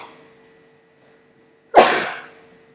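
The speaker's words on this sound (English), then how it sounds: "I often sneeze around chalk desks." A single sharp sneeze bursts out loud and close in a quiet lecture hall, rising abruptly and trailing off after a near-silent stretch.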